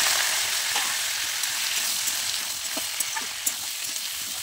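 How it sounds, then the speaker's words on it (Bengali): Jackfruit pieces frying in hot oil with bay leaf and panch phoron, a steady close crackling sizzle throughout with occasional sharp pops and light stirring. "তো এখন কাঁঠালগুলো ভালো করে দিয়ে দেবো।"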